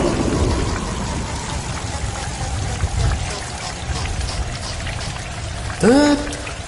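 Heavy rain pours steadily through a night scene in a Bengali horror audio drama, a dense constant wash with a louder rising tone near the end.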